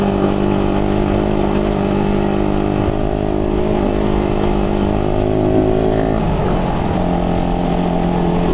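A Suzuki Raider 150 motorcycle engine with a freshly fitted spark plug idles steadily up close, a loud continuous drone with a small dip and change of pitch near the end, no voices over it.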